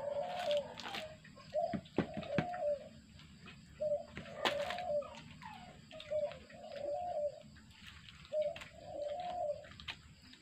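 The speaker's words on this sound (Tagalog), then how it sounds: "Siya mga aming ibon guys, gabi na kaingay-ingay pa rin." Birds coo repeatedly at night in a steady rhythm, soft and moderately near, with occasional light clicks and knocks between the calls.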